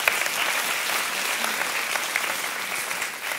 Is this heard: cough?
no